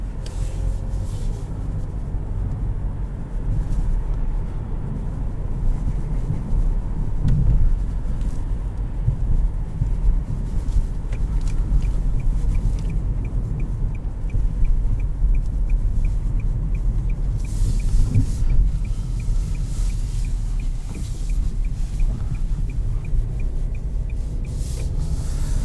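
Steady low-frequency road and tire rumble inside a 2020 Nissan Kicks SR on urban streets, a firm ride with constant cabin drone and light thumps, running continuously without talk.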